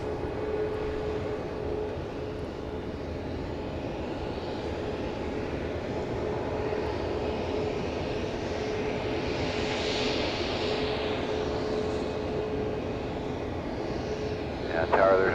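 A passenger aircraft taxiing past the viewing stand at Dallas Love Field at night gives off a steady, continuous engine roar and whine that swells slightly midway. A radio voice talks faintly underneath.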